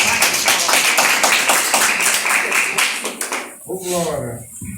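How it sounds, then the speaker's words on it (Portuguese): A church congregation claps hands in worship, a steady rhythmic beat of many hands that fades out near the end as a voice sings or speaks alone. "adorando o nome do Senhor com as palmas"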